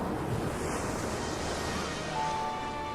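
Ocean waves wash steadily onto a shore, a continuous hissing roar of surf with wind, unbroken and alone for a few seconds.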